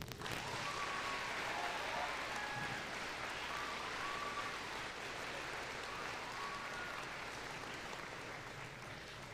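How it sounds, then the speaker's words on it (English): Quiet, steady applause from an audience at a school Veterans Day assembly honoring military veterans, a soft continuous patter of clapping heard from a distance that fades slightly toward the end. "Please join me in the first of many rounds of applause for the veterans who have joined us today."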